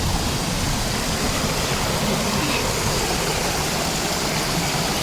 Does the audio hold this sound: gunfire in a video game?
no